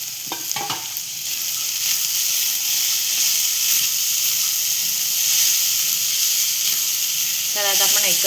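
Radish pods sizzle steadily while frying in a pan, a continuous close hiss with a few brief stirring clatters and a voice speaking briefly near the start and end.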